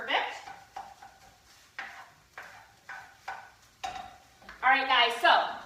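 Turkey browns in a pan while a utensil scrapes and stirs it in regular strokes, about one every second, ending in a louder, busier stretch of scraping and sizzle.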